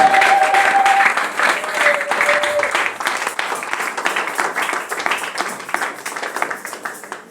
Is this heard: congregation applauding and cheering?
yes